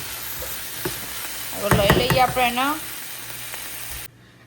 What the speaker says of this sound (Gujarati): જો લસણ મરચાં વઘારી દીધા